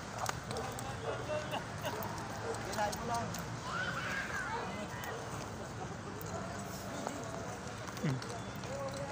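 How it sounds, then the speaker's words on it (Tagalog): Horses ridden around the lagoon at Wright Park, their hooves clip-clopping faintly at an easy pace in an open outdoor setting, with people talking throughout. "Yan, yun yung mga kabayo."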